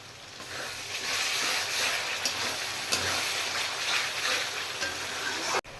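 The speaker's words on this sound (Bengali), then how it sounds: "এবার আমি মশলাটা কষিয়ে নেব ভালো করে।" A spice paste with yogurt, for a katla fish curry, fries in a pan with a steady close sizzle and hiss, a few soft stirring clicks, and an abrupt cutoff near the end.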